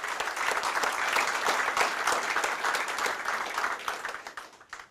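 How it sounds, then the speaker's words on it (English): An audience applauds a university baseball team, a dense, even wash of many hands clapping at moderate volume that holds steady and then tapers off at the end. "I think they deserve a round of applause."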